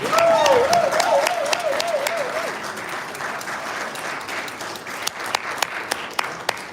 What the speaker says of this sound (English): Please, another round of applause for Dr. Loretta, please